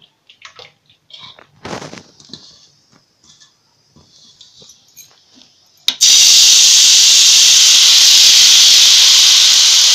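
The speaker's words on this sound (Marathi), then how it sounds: "असे घावणे घालून घ्यायचे." After a few seconds of faint clicks and handling, rice flour ghavan batter hits an oiled pan on medium heat and bursts into a loud, steady hiss that holds to the end.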